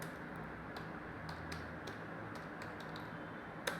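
Light, scattered keystrokes on a computer keyboard while typing into a Chrome search bar, soft irregular clicks over a steady background hum.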